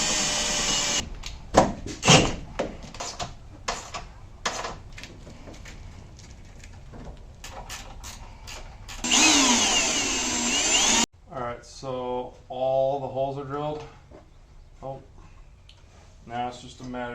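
A small pilot drill bit bores into metal during a Maximum Motorsports strut bar install, a short burst of whirring drilling amid clanks and handling noise, followed by someone talking.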